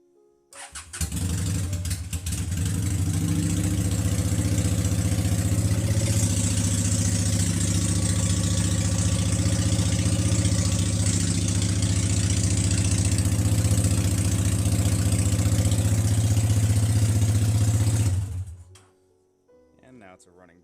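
A 2003 Honda Shadow VT750 motorcycle, running on a gravity-fed fuel bypass, starts up and settles into a loud, steady idle held close by for about sixteen seconds before cutting off.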